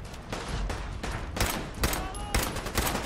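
Rapid gunfire from Fallout 4 in Diamond City: a dense run of shots in fast bursts, loud and close, with sharp cracks standing out over the clatter.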